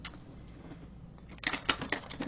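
Tarot cards being shuffled by hand, a run of quick papery riffles and soft slaps that grows louder and busier in the second half, heard alone and close.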